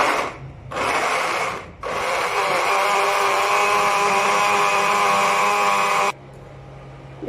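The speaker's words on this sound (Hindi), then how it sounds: "इसे हम करेंगे ब्लेंड" A kitchen blender whirs as it blends mango pulp with water, with two short bursts followed by a long steady loud run that cuts off sharply.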